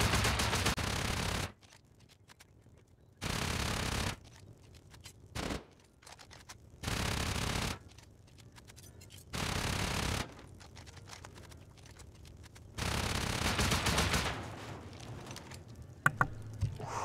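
Automatic gunfire from the video game Rust comes in repeated loud sustained bursts of a second or two each, separated by quieter gaps with faint clicking.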